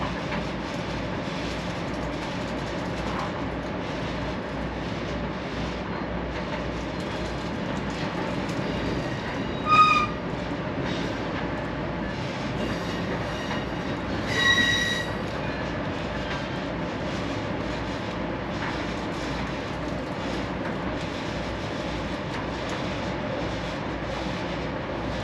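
Amtrak passenger train running on rails in Texas, a steady low rumble with clattering wheels heard from inside a car, broken by two brief sharp wheel squeals.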